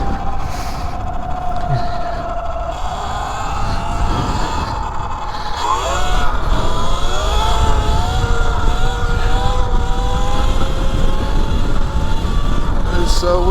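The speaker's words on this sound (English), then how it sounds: "It's so freaking windy." Strong wind buffets the rider of an E Ride Pro SS 3.0 electric motorbike, a steady loud roar with a rising whine from the motor, continuous throughout.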